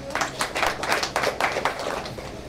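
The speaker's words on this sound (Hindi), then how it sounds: "तालियां सर।" Audience clapping at a film trailer launch, a moderate crowd of hands beating in quick, uneven bursts that stay fairly steady throughout the short stretch.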